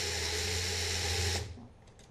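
A blender whirs loudly and steadily as it blends wheatgrass with water, then cuts off abruptly, leaving a faint quiet tail.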